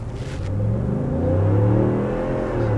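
A 2020 Ford F250 with a 7.3L V8 accelerates hard from a standstill, its engine rising into a loud, deep, steady roar heard from inside the cab.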